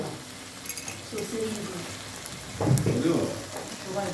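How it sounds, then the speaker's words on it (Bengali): Fried peas and cauliflower drop into mixed vegetables frying in a pan, a gentle sizzle that swells into a louder burst of hissing and stirring, with some faint voices in the background. "সেই কড়াইশুটি আর ফুলকপিটা ভেজে রেখেছে ওইটা দিয়ে দিল"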